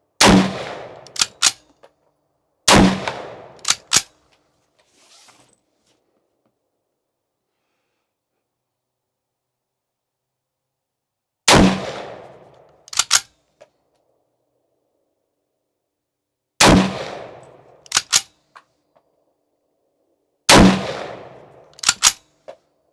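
Loud, close rifle shots from a Troy SAR straight-pull AR, fired in clusters of two or three sharp cracks separated by long silent pauses, five groups in all.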